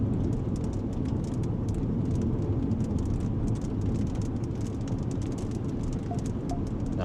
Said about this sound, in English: Maybe it is raining a little bit under here.